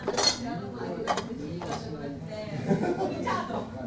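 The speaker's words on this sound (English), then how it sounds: "I stir the soup and eat." A spoon clinks against a bowl while stirring soup flavored with tororo kombu and rock nori, a few light knocks and scrapes close by amid soft background murmur, in a cramped internet cafe booth in Japan.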